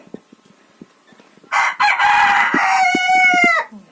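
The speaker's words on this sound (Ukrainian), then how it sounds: "Гарний півничок такий." Roosters on a Ukrainian village farm crow loudly for about two seconds, with clucking beside them, after a quieter stretch of soft hen clucks and scattered noises in the barn.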